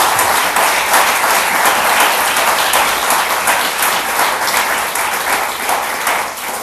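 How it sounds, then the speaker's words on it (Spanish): A church congregation applauds during a sermon, loud and sustained clapping from many hands filling the room for several seconds, easing a little toward the end. "Dale un aplauso a la gloria de Jehová."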